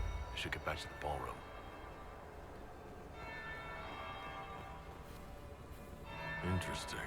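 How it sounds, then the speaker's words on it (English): A bell rings in Dragon Age: Inquisition, a sustained resonant tone held through the middle, with brief voices speaking at the start and end. "That's the bell."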